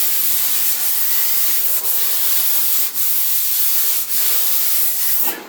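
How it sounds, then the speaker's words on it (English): An air compressor vents its air in a loud, continuous, close hiss, briefly dipping about four times before cutting off, heard in a workshop during a boot gutter repair on a Mk1 Ford Consul. "Compressor release."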